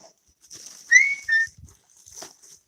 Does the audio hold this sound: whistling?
yes